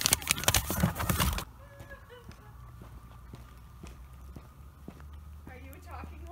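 Horse hooves clip-clop, a loud burst of rapid thudding steps at the start, then sparse, fainter knocks spread out over a quiet background.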